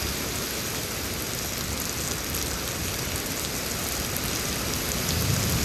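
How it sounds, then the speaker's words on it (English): Heavy rain pours down during a Houston storm, a dense, steady, loud hiss with no pauses and no voices. "this water's just coming down, man. This is extreme rain."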